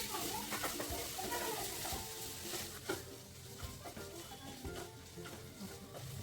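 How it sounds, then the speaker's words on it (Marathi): Crushed ginger and garlic sautéing in a pan for a dhaba-style mutton curry: a steady, close sizzle with scraping stir strokes and small clinks throughout, moderately loud and with no talking. "आलं लसूण परतून घेते"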